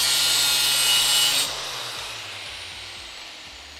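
A hacksaw cuts through a workpiece in a garage, a dense steady rasp for about a second and a half before dropping to a softer, fading scrape with faint low hum beneath.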